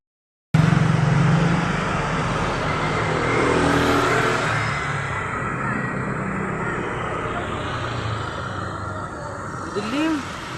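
A motorized tricycle engine drones on a road, with a steady, fairly loud motor rumble and traffic-like wash lasting several seconds, rising slightly in the middle, with a brief higher whine near the end.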